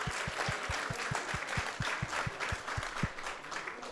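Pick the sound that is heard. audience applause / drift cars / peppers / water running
audience applause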